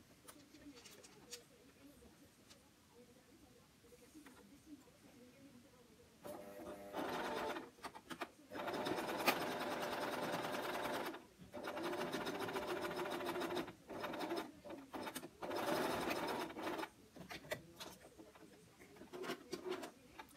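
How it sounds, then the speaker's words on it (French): Sewing machine running a straight stitch through patchwork fabric for a pincushion, with quiet handling first and then several close, steady bursts of stitching separated by short pauses. "je vais coudre en point droit"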